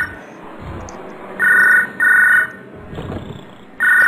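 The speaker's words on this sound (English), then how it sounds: "Phone's ringing. Somebody answer that shit." A telephone rings in three loud, steady bursts with short gaps between them, set against a low background murmur, with a brief rumble between the second and third rings.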